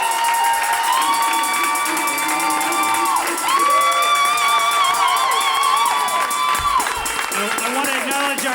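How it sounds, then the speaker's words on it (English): Audience applauding and cheering for the composer and music director at a theater performance, crowd clapping and whoops mixed with sustained musical tones and some voices. "round of applause for our composer and music director, Mr. Phil Woodmore"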